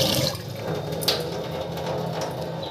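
Tap water runs steadily into a vessel while rice is washed in a home kitchen, a continuous splashing flow with small clinks and drips, no talking.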